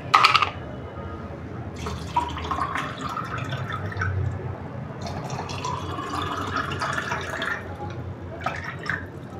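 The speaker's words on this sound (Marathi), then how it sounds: "आता आपण याच्यावर घालूया थंडगार पाणी." Cold water is poured into a container of raw mango pulp, a steady gurgling splash that rises and falls in bursts for several seconds.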